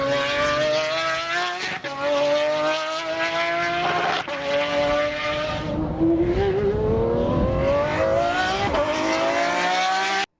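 Pagani Zonda Revolucion supercar engine revving loud and close, with repeated rising shrieks of revs broken by brief gear-change dips, then a long climbing wail near the end.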